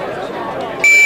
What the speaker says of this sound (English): We're listening for the beep right here.